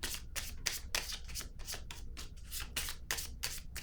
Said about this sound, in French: Je vais piger une autre carte sur elle par curiosité.